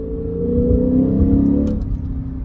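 A Lexus engine revs loudly and close through downshifts, its rising and falling harmonic tones blipping in quick succession before settling into a lower hum, with no voices over it.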